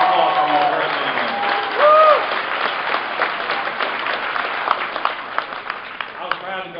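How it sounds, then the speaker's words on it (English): A political rally crowd gives loud, sustained applause, mixed with cheering voices and a brief whistle, continuing steadily for about seven seconds. "Let's hear a round of applause from you for it."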